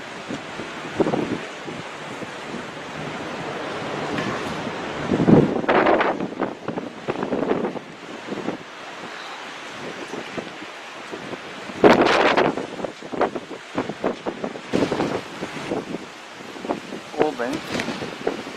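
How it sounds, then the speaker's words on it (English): Blustery winter wind on the coast at Oban, Scotland, buffets the microphone in rough gusts, with louder bursts at a few points and a faint wash of surf behind it. "on a very cold, windy Scottish winter's day."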